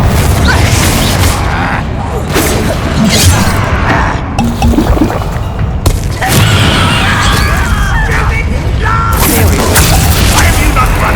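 Confringo explosive spells blasting in Hogwarts Legacy, loud crashing bangs and booms in quick succession over busy battle noise and game music, with a voice talking at times.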